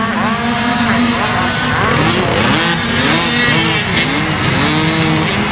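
Several 50cc junior motorcycles ridden by 7 to 9 year olds race close together at Cessnock, their high-pitched engines revving and overlapping steadily, loud and near throughout.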